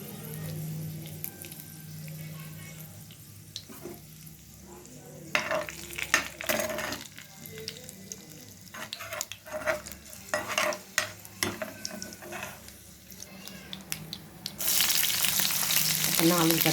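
Mustard seeds, cumin and a couple of dried red chilies sizzle in hot oil for tempering, an irregular spitting crackle with stirring scrapes that grows into a loud, steady frying hiss near the end.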